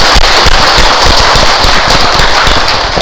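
Temple audience at a Dharma talk claps together in a dense, fast, continuous round of applause, loud and close throughout.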